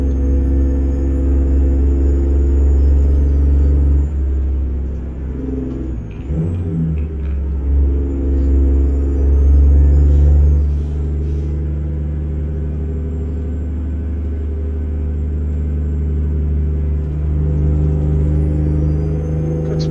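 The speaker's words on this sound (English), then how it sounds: "I thought this DD60 sounds so good, it's just hard to stay away from." A Detroit Diesel DD60 engine in a truck in American Truck Simulator gives a steady deep, loud diesel rumble throughout, swelling slightly as it revs, with faint high whistling overhead.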